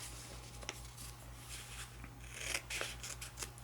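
Scissors trim kinesiology tape during ankle taping, giving a few faint, quiet snips and rustles against a low steady hum.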